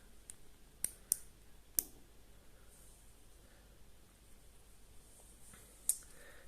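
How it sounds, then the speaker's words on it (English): A watch bezel being turned gives a few sharp, distinct clicks, spaced irregularly over a faint steady hiss, with one more click near the end. "Nice bezel action. A nice strong click as well."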